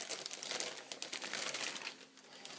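A plastic bag wrapped over a Toshiba L755 laptop crinkles and rustles continuously during unboxing, close and fairly soft with no talk.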